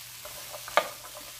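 Butternut squash hits a pan beside fried red snapper and trout, giving a soft low sizzle with one sharp clatter and a few faint scrapes in a brief moment.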